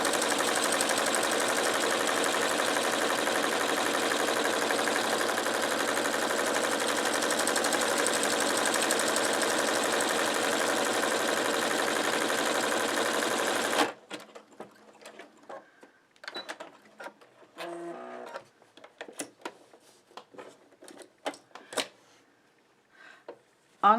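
A sewing machine stitches a buttonhole with a steady, fast, close mechanical whir and rattle for about fourteen seconds, then stops abruptly, leaving faint scattered clicks and handling noises.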